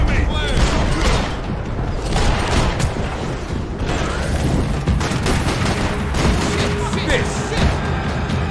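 Dense, sustained gunfire fills a Max Payne 3 firefight, with bursts, booms and crashes running continuously throughout, mixed with game audio and people talking.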